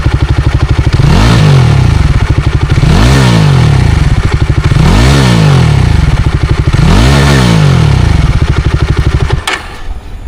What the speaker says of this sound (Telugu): ఒకసారి మీకు ఎగ్జాస్ట్ నోట్ కూడా వినిపిస్తాను చూడండి.